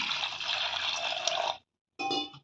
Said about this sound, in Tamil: இதுக்கு தேவையான அளவுக்கு தண்ணி ஊற்றிக்கலாம்